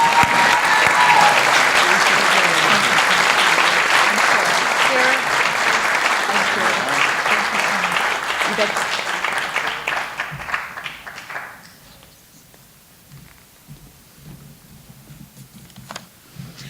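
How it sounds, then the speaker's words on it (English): Audience applause at a community engagement appreciation celebration for award honorees, loud sustained clapping from a crowd for about ten seconds, then fading out to a quiet room. "Let's give them a round of applause."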